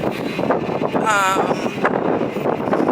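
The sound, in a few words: wind blowing into the microphone outdoors in London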